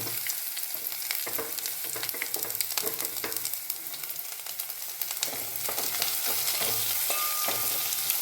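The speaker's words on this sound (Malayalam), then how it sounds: "സബോള നന്നായിട്ട് വഴന്ന എണ്ണയൊക്കെ തെളിഞ്ഞിട്ടുണ്ട്" Sliced onions sautéing in hot oil in a pan for a green peas curry give a steady, close crackling sizzle, broken by occasional stirring scrapes, with no talking.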